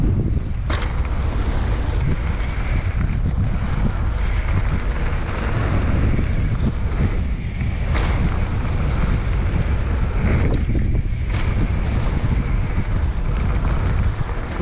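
Steady, loud wind buffets the microphone at an open, treeless bike park, a continuous roaring rush with gusty swells and no voices.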